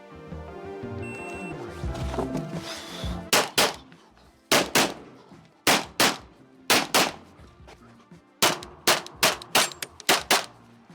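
Pistol shots fired during a timed shooting stage, sharp loud cracks in quick pairs and short bursts, about a dozen reports spread over several seconds after a brief stretch of background noise.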